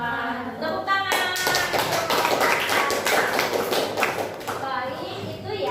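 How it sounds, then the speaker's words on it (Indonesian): Classroom audience clapping together after a closing greeting at a school event, a dense steady burst of many hands lasting several seconds, with children's voices mixed in at the start and end. "Tepuk tangan."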